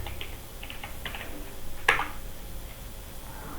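Fingers type on a computer keyboard in a few short, soft bursts of clicks, ending in one sharper keystroke, close by and quiet against faint room hiss.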